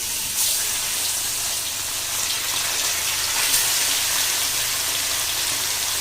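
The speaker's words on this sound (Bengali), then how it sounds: "একটা একটা করে তেলে মাছ দিয়ে দিই" Bamboo-leaf fish, salted, sliding one by one into hot oil, giving a steady broadband hiss and crackle that stays loud and even throughout, with no voices.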